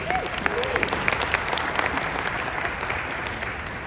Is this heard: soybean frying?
no